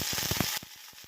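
Curry leaves and dried red chillies hit hot coconut oil with mustard seeds, giving a bright sizzling hiss and quick crackles that cut off abruptly into quieter spatters for a homestyle Kerala curry.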